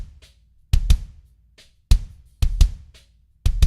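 A punchy kick drum layered with Yosh Drum Warehouse Legacy samples hits in an uneven groove, with loud doubled thumps and fainter ticks in between, dry and close with nothing else playing.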